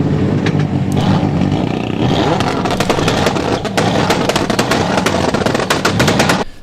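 Loud car engines roar and rev with a rapid rattling clatter, several layered engine sounds blending together until an abrupt stop.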